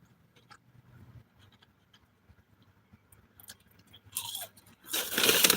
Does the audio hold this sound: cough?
no